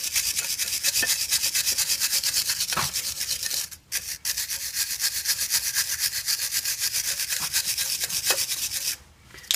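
Honda CR-V front brake caliper mating surfaces are scrubbed with quick back-and-forth rubbing strokes, close and steady, with a couple of brief pauses.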